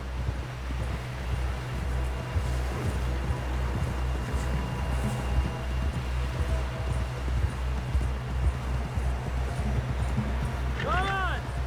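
Horse hooves clip-clop steadily in Red Dead Redemption 2, a regular rhythmic beat under a constant low rumble and wind, with a brief tonal sweep near the end.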